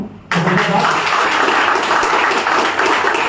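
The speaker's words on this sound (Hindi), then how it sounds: "अपने लिए तो जोरदार ताली बजा सकते हो" An audience at a rally on old-age pensions breaks into loud applause, starting suddenly after a brief pause and holding as a dense, steady wash of clapping.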